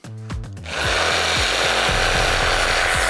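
An APRO R950 corded reciprocating saw cuts through wood, a couple of short taps then a loud, sustained buzzing rasp with a rapid back-and-forth stroke rhythm.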